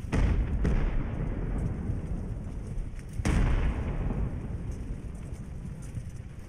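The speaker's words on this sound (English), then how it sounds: "At last, the cannons have found them." Ship-of-the-line cannons booming in Ultimate Admiral: Age of Sail, two distinct low blasts a few seconds apart amid a rumbling naval battle backdrop, moderately distant.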